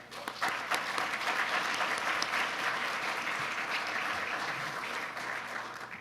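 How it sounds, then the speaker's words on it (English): A room full of people applauding at a college graduate and donor reception, a sustained, fairly loud wash of clapping that stays even for several seconds before easing off slightly. "Let's all give them a round of applause."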